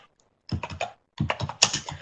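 Typing on a computer keyboard during an online webinar, two short bursts of quick, close key clicks separated by a brief pause.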